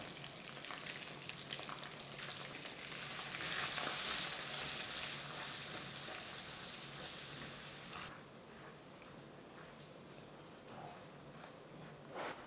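Four eggs sizzling and frying in a hot pan for fried rice, a steady crackling hiss that swells loudly in the middle and then settles back to a softer sizzle.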